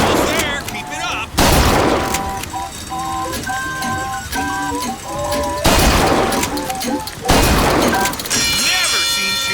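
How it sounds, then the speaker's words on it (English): Bursts of gunfire at a shooting gallery in Bioshock Infinite, loud repeated volleys around two, six and eight seconds, with breaking and shattering crashes and game music tones between the shots. "Never seen shooting like that."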